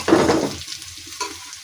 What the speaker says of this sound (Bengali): আমি এখন কড়ার মধ্যে তেল দিয়েছি, পেঁয়াজ দিয়ে নাড়াচাড়া করতেছি।